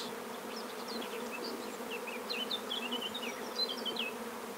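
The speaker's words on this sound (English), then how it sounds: "we're getting quite a few bees amassing on the front" A dense swarm of honeybees buzzes steadily up close at a hive entrance, with higher individual wingbeats darting in and out of the continuous hum.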